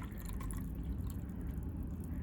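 A pink, floral-scented drink is poured into a glass in Tokyo, giving a soft, steady gush of liquid that runs faintly and evenly throughout.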